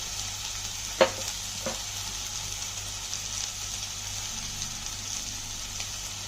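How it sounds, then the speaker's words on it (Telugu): Masala fries quietly in a pan over a low flame, giving a faint, even hiss, with one sharp spoon knock near the start and a few soft scrapes from stirring. "ఇది మాత్రం బాగా సిమ్లో పెట్టి కలుపుకోవాలండి లేకపోతే మసాలా మాడిపోద్దు"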